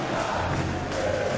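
A packed arena crowd roars during a Counter-Strike esports match between Team Liquid and Team Spirit at the IEM Rio Major, a dense, steady wash of cheering with no clear breaks.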